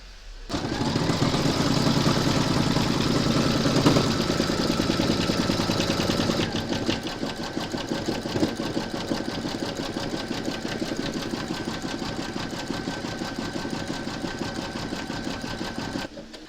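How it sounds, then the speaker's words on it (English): A sewing machine stitching a decorative thread run on a crazy patchwork notebook cover, a steady, loud, rapid mechanical whir that runs almost continuously and shifts to a slightly different rhythm partway through. "Load your thread colour for the last run of decorative stitching into your machine and then stitch round number 17."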